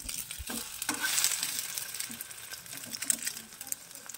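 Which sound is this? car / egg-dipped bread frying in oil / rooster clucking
egg-dipped bread frying in oil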